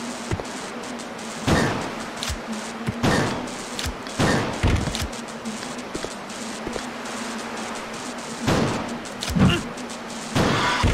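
Repeated gunshots ring out during play of the video game Resident Evil: Code Veronica X on PS4, sharp bangs spaced a second or two apart over a steady low hum and game ambience.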